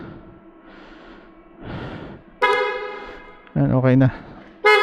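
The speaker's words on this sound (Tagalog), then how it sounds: "Okay na yung busina natin." A Honda XADV750 scooter horn honks three times, loud and close, following a stretch of quiet speech.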